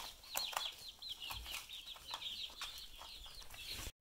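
Chickens and chicks clucking and peeping inside a coop, a steady run of soft high calls with a few rustles, moderately near and without talk.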